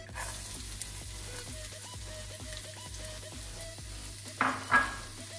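Garlic sizzles in a little oil in a pan, making a steady soft frying crackle with light stirring scrapes and a couple of louder bursts near the end.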